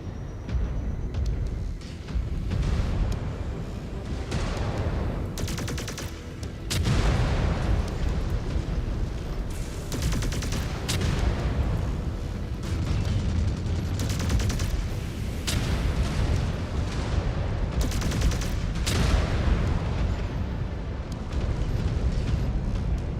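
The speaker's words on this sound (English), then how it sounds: "that's their artillery doing its job" Artillery fire in a mech combat video game, made up of repeated heavy explosions and booming impacts over a continuous battle roar, with sharp blasts recurring every few seconds throughout, close and loud.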